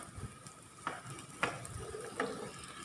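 Broccoli cutlets fry in hot oil in a pan with a steady, soft sizzle. A few light clicks of a spatula against the pan come through as the cutlets are turned.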